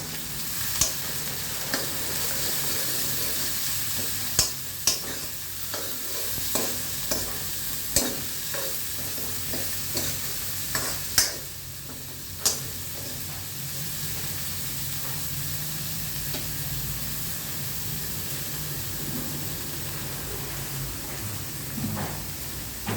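Onions frying in a pan for an old-style taro root curry give a constant sizzle, with repeated scraping and clacking from a stirring spoon through the first half, then a calmer sizzle; no voices are heard.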